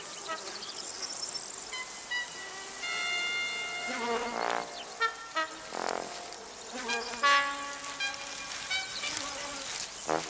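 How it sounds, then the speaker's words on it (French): Several flies buzz close by in a meadow or hedgerow, their whining drones rising and falling in overlapping waves that swell and fade over the whole stretch. "Mais revenons à nos véritables mouches."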